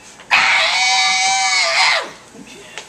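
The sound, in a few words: rock song scream imitated by a voice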